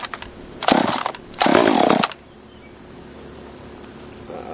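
A cheap top handle chainsaw under repair, being pull-started, roars to life in two short, loud sputtering bursts, each about half a second, then dies back to quiet.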